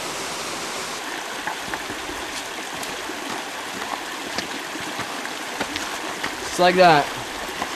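Colorado River at the bottom of the Grand Canyon, flowing as a steady broadband rush close by, with brief talk and a short burst of voice near the end.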